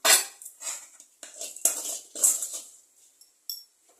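A metal tawa pan set down on a home kitchen stove, giving a cluster of bright clanks and scrapes near the start, then several softer knocks and a short ring toward the end, with no talk.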